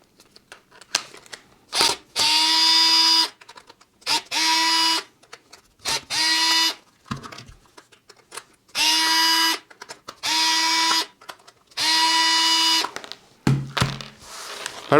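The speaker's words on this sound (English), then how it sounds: "And now I can remove the 6 screws." A power screwdriver backs six screws out of the housing of a Parkside 12V cordless rotary tool being taken apart. It gives six loud, steady whirring bursts of about a second each, with short clicks and handling knocks in the gaps.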